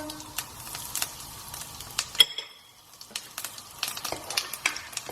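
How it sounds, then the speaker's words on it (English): Bay leaf, cumin seeds and asafetida sizzle in hot oil with a chili and cinnamon stick for an Indian dhal, crackling steadily while a spoon stirs quickly, a brief quieter gap midway before the frying resumes. "just a quick stir."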